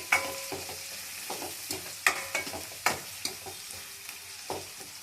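Green chillies fry with turmeric in a pan, giving a close, hissing sizzle broken by repeated sharp clacks and scrapes of a spoon stirring. It runs steadily with no speech.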